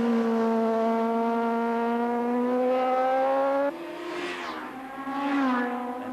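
Racing motorcycle on the Mount Panorama circuit at Bathurst during a 1983 500 race, a high, steady engine whine that holds its pitch, then drops and rises through gear changes as it passes, alone without talk.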